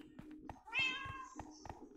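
A cat meows in the Minecraft video game, a single drawn-out mew rising over soft background clicks and footsteps, with faint talk around it.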